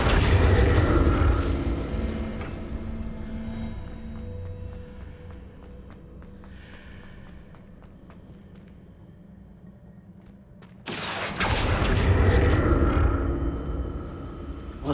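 A burst of magic from a spell in Hogwarts Legacy: a loud, booming rumble swells at the start, fades to a low hum, then a second bright, crackling blast erupts near the end.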